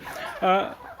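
A Kairali hen on a small home poultry setup gives a single short, harmonic cluck near the middle, fairly close, against quiet ambient background.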